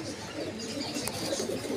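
Pigeons at the Jinjira bazaar pigeon market in Keraniganj, Dhaka, with soft low cooing and muffled bird calls blending into a busy, murmuring market background.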